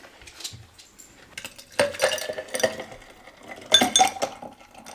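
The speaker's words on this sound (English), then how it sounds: "Pour it, but do not strain it into your highball glass and top with club soda" A cocktail poured unstrained into a highball glass and topped with club soda: ice clinks and rattles against glass in a few close bursts, with a splashing pour in between.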